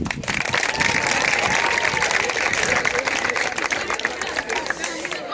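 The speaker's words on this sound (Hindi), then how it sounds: "तो आप सबके लिए जोरदार तालियां होनी चाहिए पहले" Students break into loud, dense applause that fills the whole stretch, with voices and chatter mixed in, a crowd of listeners clapping together at close range.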